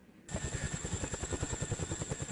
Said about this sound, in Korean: 드디어 고공 강화를 위한 헬기 시누크가 착륙하는데